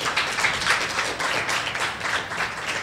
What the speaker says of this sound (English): let's huge round of applause for Pivotal